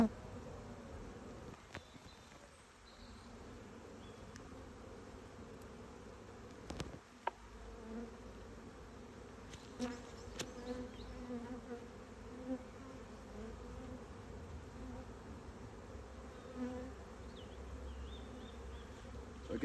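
Honeybees in an opened hive during a spring inspection, giving a steady, close, continuous buzzing drone that stays at an even level throughout, with a few small knocks and handling noises and no talking.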